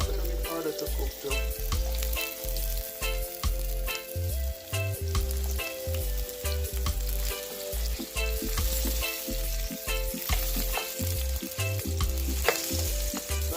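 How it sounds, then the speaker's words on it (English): Carrots and mixed vegetables sautéing in a pan for Jamaican curried shrimp, a steady close sizzle and frying crackle with occasional stirring scrapes, no talking. "Saute all of this nicely."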